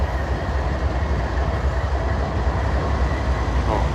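A train rolls past close by with a steady low rumble and rattling wheels, a continuous dense roar that holds level throughout with no clear gaps.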